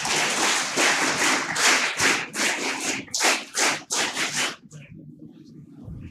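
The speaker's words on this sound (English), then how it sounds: "All of you are clapping for us," Hall audience at the INASL 2023 conference in Bhubaneswar clapping, close and uneven, swelling in bursts before tapering into a few scattered claps and quiet.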